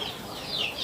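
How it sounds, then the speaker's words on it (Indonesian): A backyard chicken clucks briefly and softly while foraging through a household trash pile, a single short bird call close by against faint background noise. "alamiah si ayam-ayamnya mencari makanan di tempat sampah ya"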